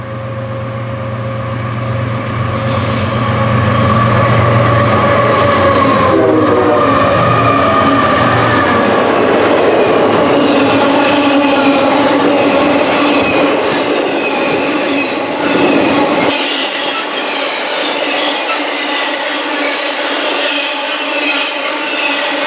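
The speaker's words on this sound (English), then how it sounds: "Next up is BNSF's daily Hotshot Z train between Chicago and Denver." A heavy BNSF Hotshot Z freight train rumbles past close by, loud and sustained, with rolling wheel noise and a brief high squeal early on, then cuts off abruptly.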